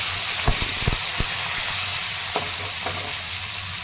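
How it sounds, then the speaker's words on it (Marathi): Brinjal frying in a pan with cumin and curry leaves gives a steady, close sizzling hiss, with a few sharp clicks and spoon knocks early on and again near the end, no talk. "जिरे टाकून घेत आहे आणि आता हे वांगे टाकून घेते कढीपत्ता वांगे टाकून घेतलेले आहे"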